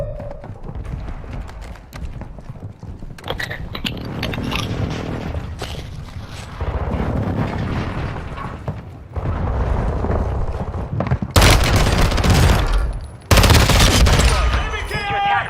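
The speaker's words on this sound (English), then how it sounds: "Hostile airstrike near your location." Video game combat with an incoming hostile airstrike: dense bursts of gunfire and heavy explosive blasts, growing louder toward the end with two strong impacts, with game announcer voice lines mixed in.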